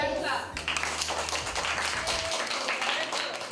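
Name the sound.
audience clapping for spelling bee champion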